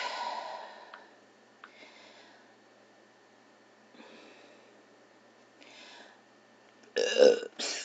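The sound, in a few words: burp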